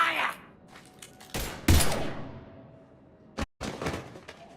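Gunfire in the video game Mass Effect 3 comes as a few sharp, loud blasts and short bursts spread over several seconds, with echoing tails between them.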